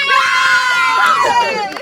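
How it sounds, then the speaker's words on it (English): A crowd at a senior camogie county final celebration lets out one big loud cheer, voices shouting together for a couple of seconds then fading. "we'll finish with a big cheer"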